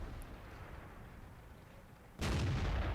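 FCM 50 t tank gun fires once in World of Tanks, a single sudden loud boom with a rumbling tail that cuts in late after quieter engine ambience.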